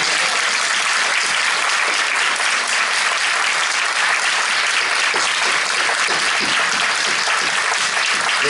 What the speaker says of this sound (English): how about everybody let them know that you know they're there by applauding